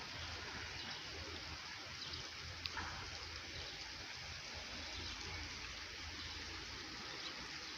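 A soft, steady wash of falling rain in Kuşadası, Turkey hisses evenly throughout, faint and unbroken, with no voices.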